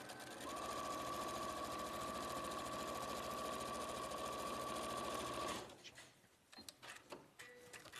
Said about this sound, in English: so let's just sew along there